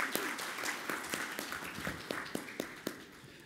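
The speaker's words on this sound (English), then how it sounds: "A big applause to all the presenters," Audience applause for presenters closing a conference session, a thin, moderate patter of clapping with a few sharper individual claps standing out, fairly close and steady throughout.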